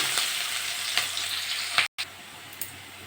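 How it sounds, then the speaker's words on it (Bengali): Chopped onions fry in a pan for a taro-leaf curry, giving a steady close sizzle with a few soft crackles and one brief cutout partway through. "পেঁয়াজটা দিয়ে একটু ভেজে নেব"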